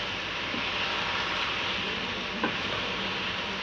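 Chicken fried rice being tossed and mixed in a hot pan, a dense continuous sizzle with soft stirring scrapes and one sharper clink of the spatula, close and steady.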